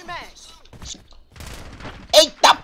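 Bursts of gunfire in the video game Call of Duty, a few sharp shots and two loud close blasts near the end, mixed with excited voices.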